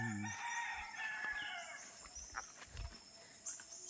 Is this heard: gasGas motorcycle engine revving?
no